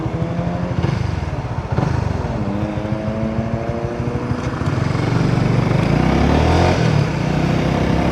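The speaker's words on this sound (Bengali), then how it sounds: "আমার কাছে মনে হয় 150cc-র মধ্যে বেস্ট সাউন্ডিং বাইক এটা।" A 150cc motorcycle rides through Kuala Lumpur at night. Its engine drones loudly and steadily up close, dropping in pitch and then climbing again as the rider shifts and opens the throttle toward the end.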